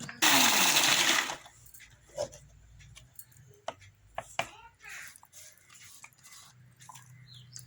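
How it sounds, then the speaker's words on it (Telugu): A kitchen mixer grinder whirs loudly for about a second as it blends coconut with water, then stops, followed by scattered clicks, taps and handling noises from the jar and lid. "మిక్సీ పట్టుకున్నాము కొబ్బరి కొబ్బరిలో కొంచెం నీళ్ళు వేసుకున్నాము మిక్సీ వేసుకున్నాము"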